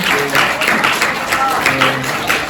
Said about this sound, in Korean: 우리를 위해서 한번 박수 한번 다시 한번 드립니다